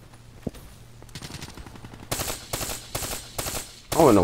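Rapid automatic gunfire in Black Ops 3 crackles in short repeated bursts, growing louder toward the end, with a brief voice underneath.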